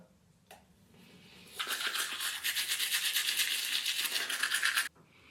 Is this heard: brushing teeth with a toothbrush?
yes